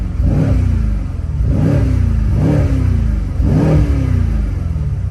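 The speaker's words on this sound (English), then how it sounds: "and let's give it a couple revs here." Mercedes C63 AMG V8 in Sport Plus with exhaust valves open, revved four times in quick succession while parked, each loud rise and fall close and alone over a steady idle rumble.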